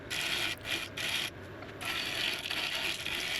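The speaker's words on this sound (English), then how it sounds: "we are now into shear scraping territory, where it's not much of the blade making contact, and it's coming out as really nice clean cuts" A lathe tool shear scrapes a spinning redgum burl bowl, giving a continuous close rasping hiss. It dips briefly twice where the cut lightens, then resumes steadily, with no voices.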